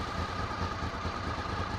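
A Honda VFR800 motorcycle engine running with its gear-driven cams whirring, a steady, even drone with a smooth mechanical whine and no speech.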